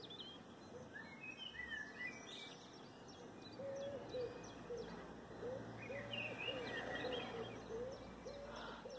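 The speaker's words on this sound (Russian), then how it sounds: "поют птицы" Morning birdsong in the open: repeated soft hoots and scattered chirps and whistles, fairly faint over a low steady background hum.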